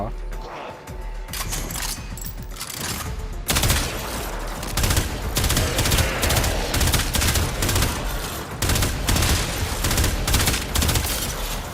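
Dense gunfire from a Warframe firefight, with near, continuous bursts and rapid shots running through the whole stretch and loudest after the opening seconds, while someone talks over it.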